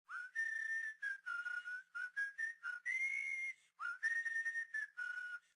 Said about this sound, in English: Fanboy and Chum Chum starts with what sounds like a campfire whistle